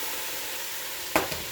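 Turkey neck dropped into a pot of collard greens with its juices, giving a brief sizzling splash over a steady, fairly quiet cooking hiss.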